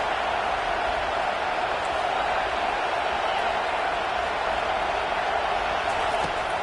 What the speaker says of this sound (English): this crowd coming to life here, trying to help the defense get a stop